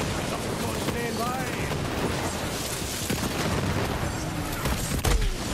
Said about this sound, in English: No, it shoots like 4 bullets at the same time.